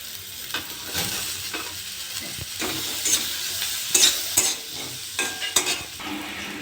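Onions and green chillies fry in hot butter in a pan for paneer ghotala, a steady close sizzle broken by sharp clicks and scrapes from stirring, with no voices.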